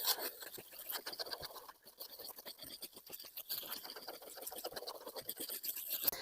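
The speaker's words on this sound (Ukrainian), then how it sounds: "Беремо будь-яку досточку, в моєму випадку ось такий уламок. І починаємо знімати зайве." A broken piece of wooden board scrapes excess wet plaster off a window reveal in repeated rough, raspy strokes, close and fairly quiet, with no talking.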